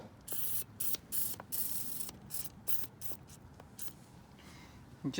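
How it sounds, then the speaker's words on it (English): Penetrating oil sprayed into the starter of a 1990 Jeep YJ, a series of short hissing spritzes in quick succession, close and fairly loud. "gonna give it a little spritz in there just to help loosen things up"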